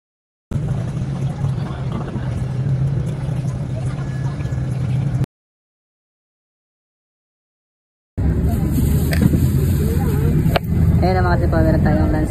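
Steady low engine drone and road rumble inside a moving bus, continuous and fairly loud, cutting out to silence for a few seconds midway before resuming with voices talking over it.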